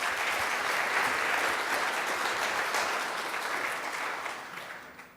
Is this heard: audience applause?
yes